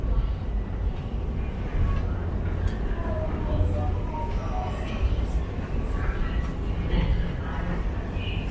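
A Toronto subway train rides from Union toward Castle Frank, its dense low rumble and rolling wheel noise steady throughout, with faint high squeals and clanks and speech-like murmurs inside the car.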